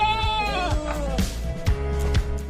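Sheep raised by herdsmen bleat close by. One long, wavering bleat is followed by several shorter bleats against a low background rumble.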